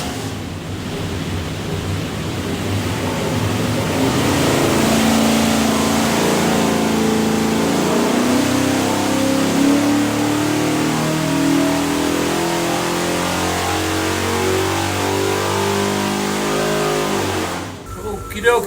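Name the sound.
427 stroker V8 engine revving during dyno run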